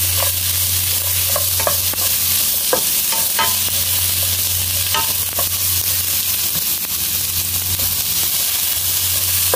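Onions fry in hot oil in a pan, giving a steady close sizzle with occasional scraping stirs throughout, with no talking.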